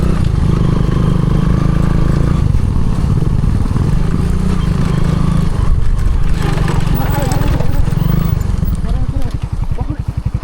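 A broken-down motorbike's engine runs rough and chugging up close, with people talking over it, ending in a rapid pulsing putter.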